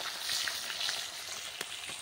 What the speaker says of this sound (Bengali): দেখো, মাছ ভাজা চলছে।